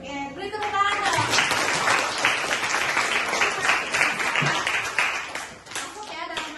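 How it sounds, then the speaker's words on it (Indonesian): An audience of students claps for several seconds in a steady, dense patter of hands, fairly close, with a voice and other voices talking over the applause. "beri tepuk tangan dong"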